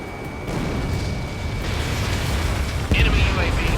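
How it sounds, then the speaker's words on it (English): An enemy UAV explodes in the Ace Combat 7 flight game: a dense, rumbling roar of jet and blast noise that swells into a sharper burst near the end. "Enemy UAV confirmed destroyed."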